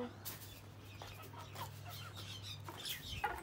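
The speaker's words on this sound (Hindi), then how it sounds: "दिखाएँ ना सारी मुर्गियाँ हमें।" Several chickens cluck softly at close range on a small flock being shown off at home, scattered short calls over a low steady hum and faint background noise.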